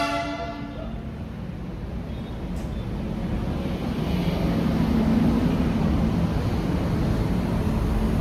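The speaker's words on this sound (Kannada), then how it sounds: "ಬಳ್ಳಾರಿ ಜಂಕ್ಷನ್ಗೆ ಪ್ಲಾಟ್ಫಾರ್ಮ್ ನಂಬರ್ 1ಗೆ ಬರುತ್ತೆ ನೋಡಿ ನಮ್ಮ ಟ್ರೈನ್ ಡೈಲಿ." The Ballari to Davanagere DEMU train pulls into platform 1 at Ballari Junction, a steady low rumble that slowly grows louder over several seconds, opening with a brief horn-like tone.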